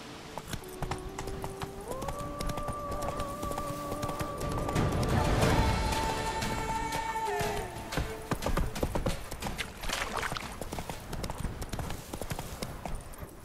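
Roach, the horse in the video game The Witcher 3, gallops with a fast, steady clip-clop of hooves close by, joined midway by held musical tones and a brief whinny-like swell.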